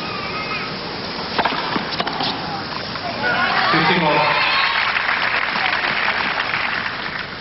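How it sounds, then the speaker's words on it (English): A tennis crowd at a men's final claps and murmurs between sets, scattered applause swelling into a broad buzz of chatter, heard through a broadcast with background voices. "Crowd still buzzing from a terrific first set."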